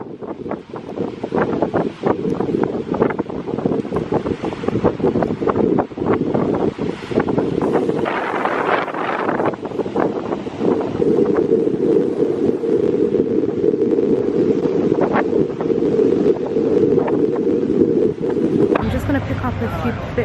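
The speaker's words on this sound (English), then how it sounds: "it's windy, the waves and the sea look so beautiful" Strong wind buffeting the microphone with sea waves rolling onto a beach in Dubai, a continuous loud roar with surf swells, while someone talks over it.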